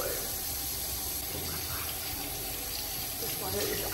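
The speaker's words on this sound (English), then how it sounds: "to wash my face in this cold ass water" Cold tap water runs steadily into a sink while someone washes their face, a close, continuous splashing gush that fills the whole moment.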